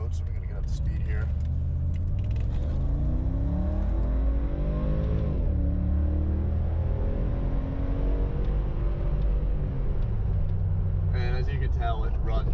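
An old AMG Mercedes G-wagon engine revs up as it accelerates onto a main road, rising pitch sweeping up through gears over a constant loud road rumble, with no talking.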